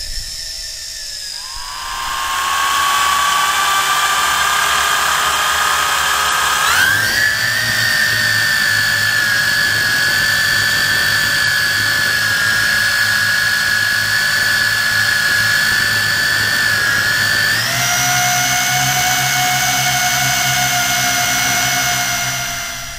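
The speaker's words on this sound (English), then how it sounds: "This is the Tarantula on high rates, Armin motors, and here we go, and we're off." A Tarantula X6 toy quadcopter flying on high rates, its motors giving a loud, steady high-pitched whine that rises and shifts in pitch as the throttle changes, with no talking.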